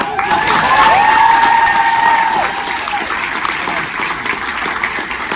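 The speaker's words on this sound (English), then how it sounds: "one more round of applause for that" An audience at an improv theatre event claps loudly and steadily with some cheering, swelling early, then easing slightly while continuing to the end.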